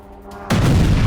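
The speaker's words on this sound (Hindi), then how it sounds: "ड्रोन हमलों से ओरियोल में भारी धमाके" A sudden loud explosion from a drone attack in Oryol, Russia, bursts in after a brief quiet moment, a heavy boom with rumbling roar that continues to the end.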